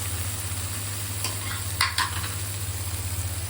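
A vegetable and egg mixture fries in hot oil on a stove, giving a continuous close sizzle over a low steady hum, with a few brief scraping stirs.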